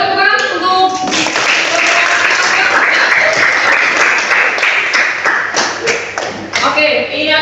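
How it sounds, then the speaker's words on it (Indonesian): A classroom full of university students bursts into brisk clapping that swells and holds, loud and close, with voices chattering over the start and end. "Ayo tepuk tangan untuk."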